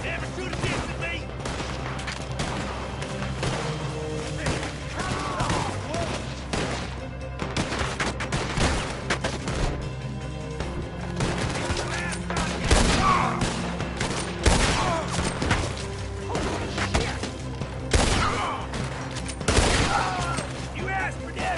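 A gunfight in the video game Red Dead Redemption 2 on PS4: dense, continuous gunfire with rapid overlapping shots and booms over a steady game soundscape, with voices shouting in between.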